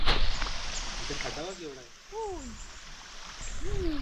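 Rainwater runs through a flooded paddy field in the Konkan after early heavy rain, a steady broadband rush that continues throughout while people talk over it nearby.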